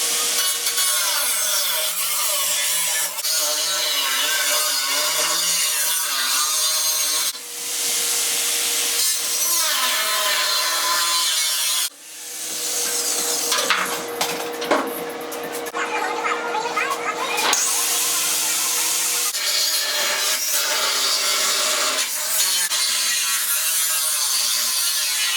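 Cutting through the steel bed floor of a 1967-72 truck, a loud continuous grinding, rasping cut that runs nearly nonstop in close, harsh strokes with brief pauses.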